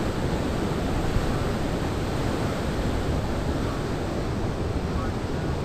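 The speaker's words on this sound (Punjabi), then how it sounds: "ਪਾਣੀ ਦਾ ਪ੍ਰੈਸ਼ਰ ਦੇਖੋ" Water surges out of the Harike dam gates in Punjab, a loud, constant broadband roar with no breaks, close and overwhelming.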